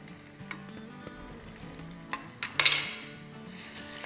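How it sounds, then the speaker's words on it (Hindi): A pinch of asafoetida, mustard seeds and white cumin fry in hot oil in a pan, a soft steady sizzle with a few sharp crackles and pops, plus faint clinks of a utensil stirring. "इसको भूनेंगे।"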